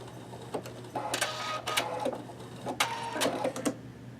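A Pfaff Creative Vision sewing machine runs its automatic thread cutter after finishing a buttonhole, giving several short mechanical whirring and clicking bursts close by over a steady low motor hum.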